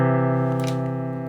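Sustained piano chord played in equal temperament tuning, ringing steadily with rich, even harmonics and slowly decaying, heard alone without talk.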